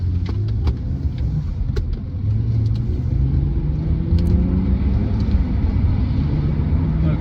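A BMW Z4 E89 sDrive 2.3i six-cylinder with a six-speed manual rumbles steadily on the move, with a smooth engine drone and low road noise filling the cabin and occasional faint clicks.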